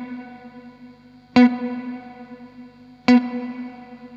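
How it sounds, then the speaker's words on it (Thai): An electric guitar runs through a Strymon Cloudburst reverb pedal set to minimum pre-delay. Two sharply struck chords, about two seconds apart, each bloom into a sustained, shimmering reverb wash that lingers between hits. "ถ้าสังเกตดูเสียงรีเวิร์บมันจะ ไม่ตรงกับเสียงจริงเป๊ะเลย"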